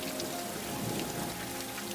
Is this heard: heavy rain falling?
yes